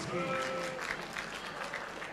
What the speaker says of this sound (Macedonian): Бидете љубезни, дајте му аплауз за секретарот Љупчо Митревски